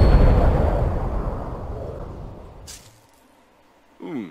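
A single heavy weapon blast in Breathedge, fired at an airlock latch, booms loudly up front and rumbles away over a few seconds before a short sharp crackle and a brief voice near the end.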